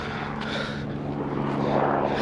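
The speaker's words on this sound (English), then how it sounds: "There's a chopper in the sky though." A helicopter flies overhead above a stretch of Fife coast, its steady rotor and engine drone broad and continuous, rising slightly in loudness across the short stretch with no talking.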